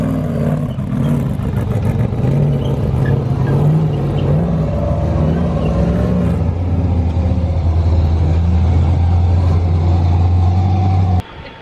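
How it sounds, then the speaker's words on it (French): V8 engine of an off-road rock-crawling buggy out in the mountains, a loud, deep, steady rumble close by that settles into a sustained low drone before stopping abruptly. "vous entendez le bruit que ça fait? Voilà, à mon avis ça doit être un V8."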